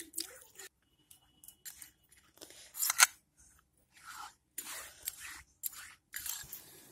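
Paneer is cut for a mixed vegetable curry: a quiet series of short, crisp cutting strokes with brief silent gaps between them.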